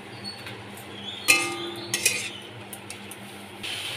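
Prawns go into a pan of banana flower curry with a few sharp clinks of metal on cookware and a soft rustle, over a faint steady background hum with no talking.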